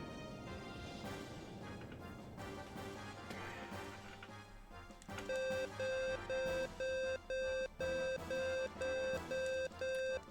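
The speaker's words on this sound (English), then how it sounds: "this beeping noise is gonna be here until, like, I beat Groff" A Xenogears video game emits an insistent electronic beeping, starting after a stretch of quieter game music and then repeating in regular rapid pulses of even length, fairly loud and steady to the end.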